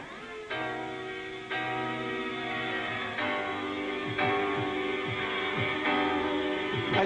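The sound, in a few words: jungle track sampling a soul song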